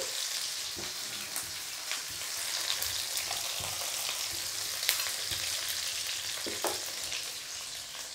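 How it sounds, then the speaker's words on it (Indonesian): Garlic and shallots fry in a tablespoon of hot oil with a steady, close sizzle, dotted with sharp crackles and pops as they are stirred. "kita goreng bawang putih bawang merah hingga wangi"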